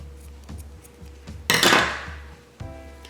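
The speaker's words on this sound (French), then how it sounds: "Je vais couper au bord." Scissors snip through chunky yarn at the edge of a hand-knitted beanie made on a giant circular knitting loom, a single crisp cut close by among faint handling rustles.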